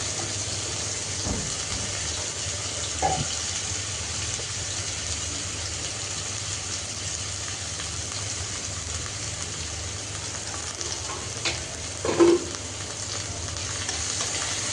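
Chopped onions fry in hot oil in a home kitchen pan for a fish curry, a steady, soft sizzle with an occasional stir or clink of a spoon, no voices.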